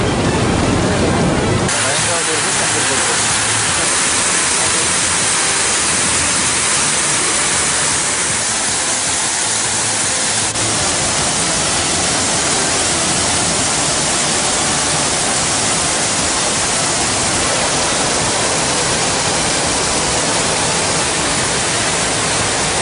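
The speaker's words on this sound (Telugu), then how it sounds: "రాత్రి 10 గంటల సమయంలో అధికారులు 5 అడుగుల మేర గేట్లెత్తి నీటిని కిందకి వదిలారు" Floodwater pours through the opened gates of the Kinnerasani reservoir in a loud, unbroken roar of rushing water, steady and dense throughout.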